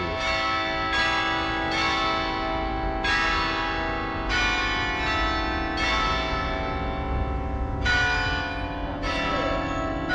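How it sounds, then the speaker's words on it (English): Large church bells of the Temple of Saint Sava in Belgrade, Serbia, toll the hour repeatedly at a slow, steady pace, each strike ringing out with long overlapping resonance, loud and close. "The bells are every hour."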